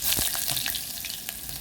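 White onions fry in a pan for coconut rice, a steady close hiss of sizzling with small crackles and pops scattered throughout.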